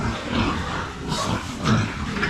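A large farm pig grunts and oinks nearby in a short, rough burst, repeated a couple of times over steady background noise.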